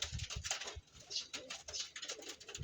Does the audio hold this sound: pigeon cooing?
yes